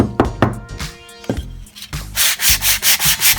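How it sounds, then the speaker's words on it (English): Wood being sanded by hand with 100 grit sandpaper for a coat rack craft: some knocks and uneven rubbing at first, then a steady run of close, rhythmic abrasive strokes, about seven in a row, with no speech. "sandpaper"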